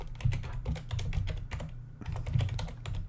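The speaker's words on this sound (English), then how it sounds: "let's type in float as the data type" Steady typing on a computer keyboard, with rapid clustered keystrokes in uneven bursts and a short pause midway, close and clear with no talking.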